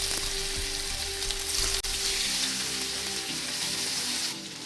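Marinated raw banana pieces hit hot oil with mustard seeds, fennel and curry leaves, giving a loud, continuous sizzle with crackling pops close up and no voices over it.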